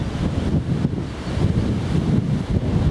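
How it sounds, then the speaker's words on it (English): Strong wind buffets the microphone on an exposed hillside during a circular walk around Bamford, making a continuous low, rumbling roar with uneven gusts. "the wind is pretty strong up there"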